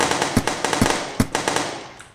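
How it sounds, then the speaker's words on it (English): Gunshots in a top-down video game, a series of loud, sharp synthetic shots, three especially punchy, fired in a quick irregular rhythm over constant game noise. "I might change the volume of the gunshots as well. Those are kind of loud."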